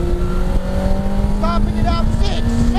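A Mazda RX5 fitted with a Yamaha R1 motorcycle engine, weighing 460 kilos, revs hard at close range, its loud, steady high-pitched drone holding and then climbing in pitch toward 14,000 RPM.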